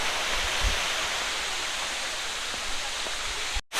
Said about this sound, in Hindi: ऊपर से नीचे तक पूरा पानी फ्लो होते हुए जा रहा है